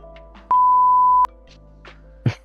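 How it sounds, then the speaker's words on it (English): A single sustained electronic beep tone sounds for under a second, loud and clean, followed by faint clicks and a short burst of noise in an otherwise quiet room during a forex trading livestream. "Your beep is driving my dogs crazy."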